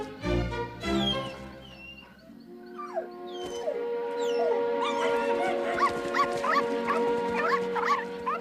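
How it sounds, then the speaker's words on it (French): Several dogs howl and bark together, with rising and falling wails and sharp yips overlapping, loud and close. "ils sont gentils, les chiens"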